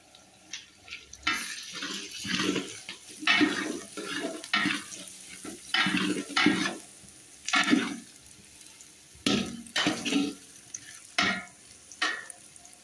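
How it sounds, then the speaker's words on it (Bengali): Onions frying with ginger-garlic paste and turmeric, cooked over a wood fire for a mutton dish, give a steady sizzle broken by repeated scraping stirs and splashy bursts, close and moderately loud, with no talking. "পেঁয়াজটা বেশ ভাজা ভাজা হচ্ছে"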